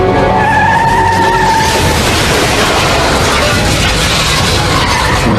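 A truck skids and smashes into metal store shelving, a loud, continuous roar of scraping, crashing and tumbling goods that fills the whole stretch without letup.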